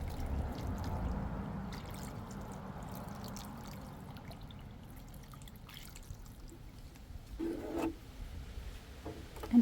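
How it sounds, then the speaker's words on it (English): Water poured onto a freshly repotted navel orange tree, a soft trickling and pouring sound that is quiet and steady, with a brief louder splash near the end. "let's just water the navel orange in too"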